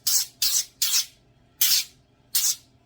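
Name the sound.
spraying avocado oil cooking spray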